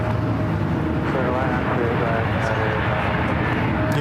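Boeing 737 airliner at San Francisco airport, a steady, loud jet engine roar with a constant low drone and whine, unbroken from start to finish.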